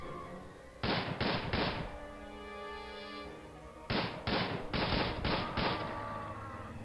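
Gunfire in the Prison Architect video game comes in two quick clusters of three and five sharp, loud shots with ringing decay between them.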